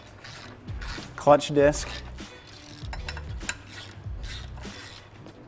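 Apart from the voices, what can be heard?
ratchet tightening clutch pressure plate bolts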